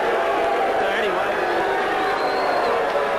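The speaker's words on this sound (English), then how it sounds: "Crowd, of course, remonstrating." Wrestling crowd remonstrating at an event, a steady loud arena murmur of voices with scattered shouts, under commentary talk.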